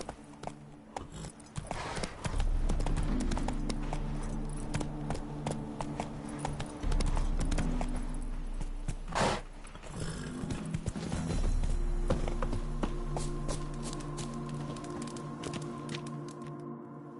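A horse gallops in The Witcher 3, its hooves drumming in a steady, fast clip-clop rhythm close by, with a brief whinny and tack noise over faint game ambience.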